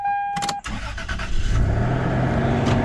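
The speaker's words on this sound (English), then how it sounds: "Actually, you have to start the car." A brief electronic chime, then a 1997 Toyota 4Runner's engine cranks and catches, settling into a steady rumbling idle.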